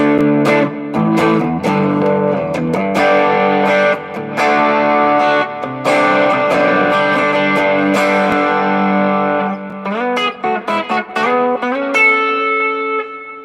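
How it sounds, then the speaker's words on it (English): An electric guitar through a distortion pedal plays chords and riffs up close with a gritty, sustained tone, with a few brief pauses and quick runs toward the end. "here's with a little distortion just added there"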